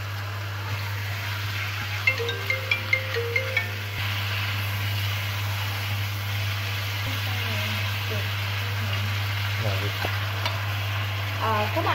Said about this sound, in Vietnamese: các bạn sẽ cho cái phần vịt mình vừa mới chặt vào để các bạn xào qua nha